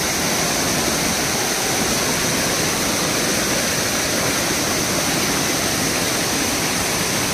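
A steady, loud roar of water rushing at high pressure over the Savdav waterfall near Kankavli in Konkan, a dense unbroken hiss that fills the whole scene with no voices.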